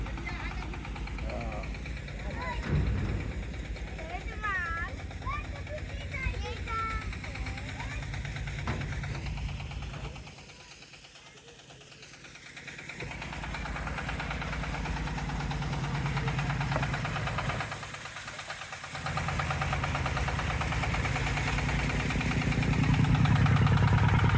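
A large wooden river boat's engine chugs steadily at close range, its low drone dipping briefly twice, while people talk over it and faint music plays at the start.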